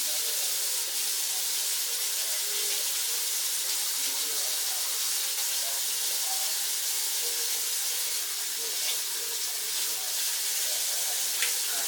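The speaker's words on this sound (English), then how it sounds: "Clean my vegetables with soda water" Running water from a sink tap washing fresh vegetables in soda water in a home kitchen, a steady close hiss and splash that continues throughout with small clinks, and no speech over it.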